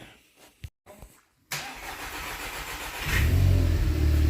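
A 2014 VW Passat Alltrack 1.8 TFSI with engine damage at 120,000 km cranks after a few clicks and catches, rising into a loud, close, steady idle with a deep rumble.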